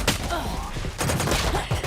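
Rapid bursts of gunfire crackle from a Valorant match, dense and loud across the whole moment, layered with game effects.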